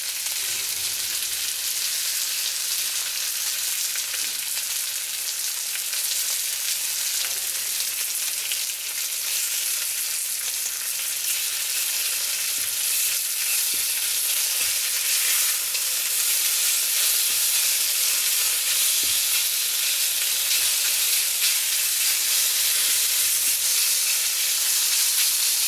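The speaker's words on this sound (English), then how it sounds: "Now I want to start putting a little sear on this beef." Beef sears in a hot wok, a loud, steady sizzle and hiss of frying that runs unbroken and close for the whole stretch, with occasional faint stirring scrapes and no talking.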